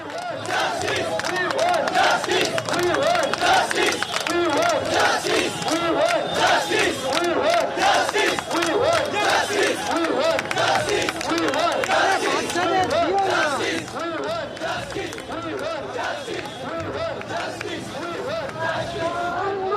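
Large crowd of protesters marching in a street rally from Sakher Bazar to Behala police station, a loud continuous roar of chanting voices and shouted slogans filling the whole stretch, close and dense throughout.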